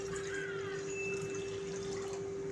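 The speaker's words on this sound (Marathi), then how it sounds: "पूर्ण भरून पाणी ऍड करायचं आहे." Water pours steadily into a bowl of sugar for lemon syrup, a continuous close trickling and splashing with a constant steady tone running underneath, no talk.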